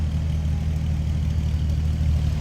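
The inline six engine of a 1950 Chevrolet Styleline Special business coupe idles from behind the car, a steady low rumbling hum with no other sounds.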